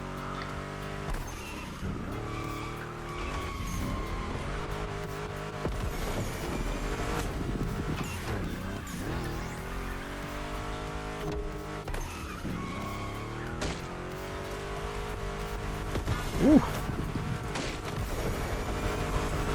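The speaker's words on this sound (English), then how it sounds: "You could just hear the wheel spin." Tires squeal and skid repeatedly as a car drifts through turns in The Crew Motorfest, engine droning steadily underneath, with no voices.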